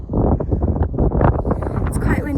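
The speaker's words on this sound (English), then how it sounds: "It's quite windy up here" Strong wind buffeting the microphone on the summit of Sale Fell, a steady low roaring gust that fills the whole moment, with no other clear sound over it.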